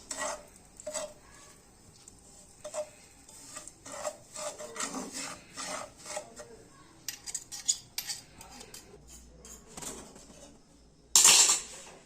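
Semolina stirred in homemade ghee in a pan for suji halwa, a utensil scraping and rasping against the pan in repeated strokes, close and fairly steady, with a brief louder clatter near the end.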